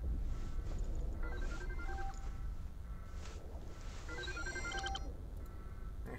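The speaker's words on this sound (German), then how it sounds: "Was jetzt? Telefon." A telephone rings in the video game Subnautica: Below Zero, giving a few bursts of bright electronic trills over a low, windy rumble of game ambience, fairly close and clear, with no talk.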